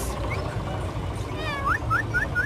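A parrot at a bird market mimics a cat's meow in a few short, rising squeaky calls in quick succession, over a low background hum.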